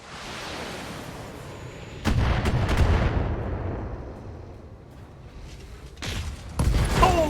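Heavy weapons fire in the Battletech mech video game, booming artillery-like blasts followed by long rumbling decay, with a second burst of shots near the end, loud and with no talking.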